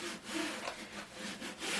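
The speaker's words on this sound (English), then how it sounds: "So we're just going to give it a nice wipe down." Rhythmic rubbing strokes wipe across a canvas painting before priming, a close, steady back-and-forth swish with no talking.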